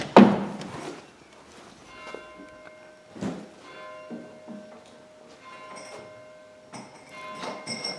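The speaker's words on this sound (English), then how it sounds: "That's the clock striking 5." A church clock bell strikes five in an English village tower, the tenor bell ringing out in spaced, resonant strokes with long humming decays, heard at a distance in an otherwise quiet setting.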